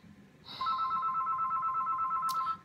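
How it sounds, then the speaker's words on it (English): A telephone rings in a room: one steady electronic ring, clear and fairly close, that lasts about two seconds. No one speaks. "See? The phone."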